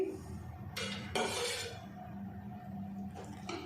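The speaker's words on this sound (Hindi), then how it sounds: "चूल्हे पे मैंने कढ़ाई रख ली और इसमें अब ये 2 बड़े पकाने वाले चम्मच में घी डाल दूंगी" A metal spoon clinks and scrapes against a kadhai on the stove as ghee is spooned in, giving a couple of short bright knocks followed by a softer scrape, close and quiet, without speech.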